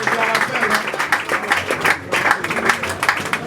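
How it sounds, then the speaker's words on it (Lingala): Audience applause at the installation of a provincial party youth league bureau, steady close clapping from a crowded room with voices mixed in. "Vos applaudissements."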